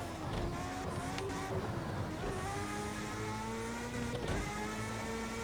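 A high-revving Formula 1 engine held in seventh gear down the straights of Monza in a racing video game, a steady whining drone with shifting harmonics and no speech.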